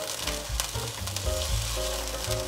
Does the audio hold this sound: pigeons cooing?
no